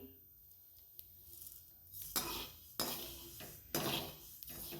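Pearl millet dry-roasting in a pan over low heat, stirred with a utensil that scrapes and clinks against the pan in a few louder strokes over a quiet background.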